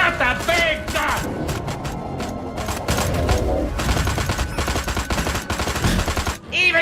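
A big alien weapon fires in Destroy All Humans! as a loud, dense barrage of rapid shots with mechanical clanks and crackling impacts. A short shouted voice sounds at the start, and the barrage cuts off abruptly at the end.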